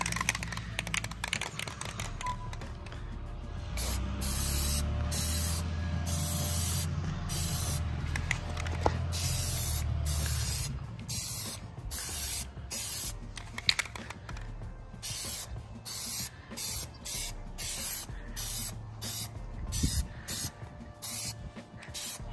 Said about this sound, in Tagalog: Ayun yung bali yan, plastic dip. Spray natin.